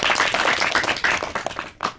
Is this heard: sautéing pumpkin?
no